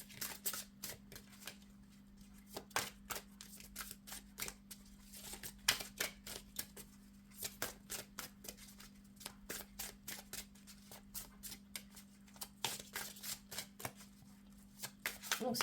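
Tarot cards being shuffled by hand: a long run of quick papery riffles and soft slaps in an uneven rhythm, faint and close, over a steady low hum.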